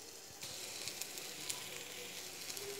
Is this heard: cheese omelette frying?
yes